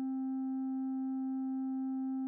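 A steady synthetic MIDI-style tone from a biofeedback app on Android or iOS, one sustained pure note with faint overtones held evenly for about two seconds, then cut off abruptly.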